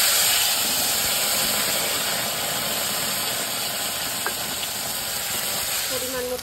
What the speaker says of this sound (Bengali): জিরে দিয়ে দেবো, শুকনো লঙ্কা, তেজপাতা, জিরে, আদা আর কাঁচা লঙ্কা